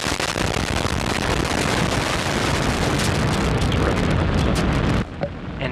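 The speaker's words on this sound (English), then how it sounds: "Lift off the Antares NG-19 launch cube from the Wallops facility." Antares NG-19 rocket lifting off from the Wallops launch facility, a continuous loud, crackling broadband roar that holds steady for about five seconds before cutting off abruptly near the end.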